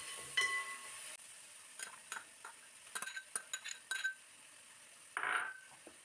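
Onions with ginger garlic paste sautéing in a pan for chicken curry, stirred with a spoon: faint, soft sizzling under a handful of light scraping and clinking strokes against the pan, quiet and close.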